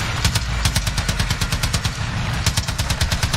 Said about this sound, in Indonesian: Nembak aja sudah itu.